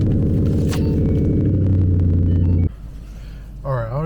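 Ford Mustang engine idling with a loud steady rumble and harmonic drone for nearly three seconds, then dropping to a quieter low hum as a voice begins speaking.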